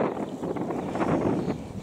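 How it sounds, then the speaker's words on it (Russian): Strong wind gusts buffet the microphone on a riverbank during a fishing trip on the Pra River, a steady roaring rush with fluctuating surges throughout. "Какой ветрище."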